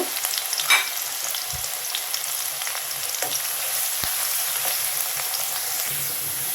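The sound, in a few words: frying chopped onion and garlic in a pan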